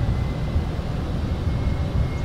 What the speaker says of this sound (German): Ich finde den Sound von dem Flieger jetzt eigentlich genial.